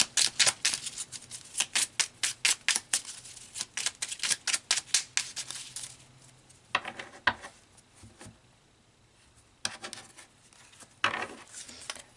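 Tarot cards being shuffled, a run of quick papery riffles and flicks in rapid bursts, close and crisp, with a pause and a few scattered shuffles later.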